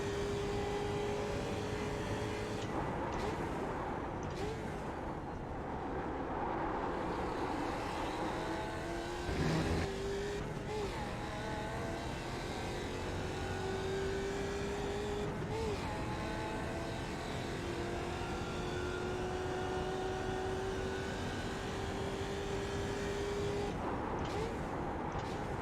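Skip Barber Mustang race car in iRacing at Sebring, engine droning steadily throughout with rising and falling pitch through gear changes and revs, loud and continuous.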